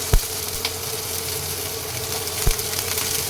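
Chopped beans and beetroot pieces fry steadily in a pan with a soft, continuous sizzle over a low background hum. Two sharp utensil knocks stand out, one near the start and one later. No one speaks.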